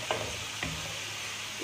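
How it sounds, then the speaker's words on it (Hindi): Thick spice paste and milk stirred in a pan for chicken changezi, a few soft scraping strokes at a quiet level over a faint low hum, with no talking. "मिक्स करेंगे इसको अच्छे तरीके से।"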